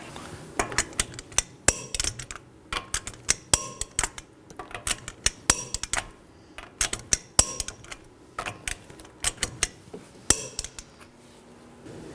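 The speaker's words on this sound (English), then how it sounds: "let's go ahead and torque these to 100 foot-pounds in a crisscross pattern" Metallic clicks and clanks from a torque wrench tightening wheel bolts in a crisscross pattern on a 2018-2024 Chevrolet Equinox, with sharp irregular ratchet ticks and clinks close up, in bursts with short pauses.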